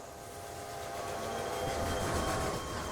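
A freight train rolls in at a station in the Railway Empire game, a steady rumbling of wheels and cars that swells gradually louder across the clip, with no talk over it.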